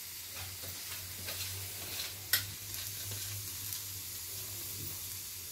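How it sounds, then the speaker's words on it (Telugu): Shark fish fries in a pan with a steady, close sizzle that holds evenly throughout, broken once by a single sharp tick midway. "ఇలా 10 to 20 minutes ఫ్రై చేసుకోవాలి ఫ్రెండ్స్"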